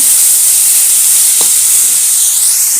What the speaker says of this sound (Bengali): তো পটলটা ভালো করে আগে ভেজে নেব।